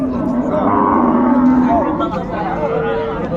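A Sahiwal cow lows at a livestock market, a loud drawn-out moo close by, set against a busy murmur of people talking around it.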